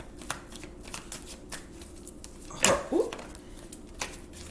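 Tarot cards are shuffled by hand: a quick riffle and a few soft slides and taps, close and fairly quiet, with faint background sound.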